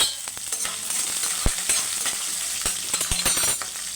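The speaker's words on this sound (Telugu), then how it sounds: "ఉల్లిపాయ కూడా లైట్గా వేగాలి" Green chillies and chopped onion sizzle in hot oil in a pan as a tempering for beaten rice upma, a steady close frying hiss broken by sharp clinks and scrapes of a stirring spoon, no voices.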